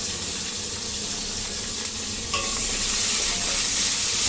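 Capsicum frying lightly in a pan with a little salt produces a constant close sizzle with soft hissing, swelling slightly louder in the second half, and no voices.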